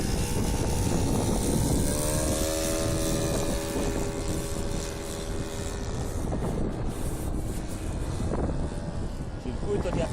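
An RC Cessna 177 Cardinal ski-version model plane flies a landing circuit, its propeller droning steadily at a distance under heavy wind rumble on the microphone.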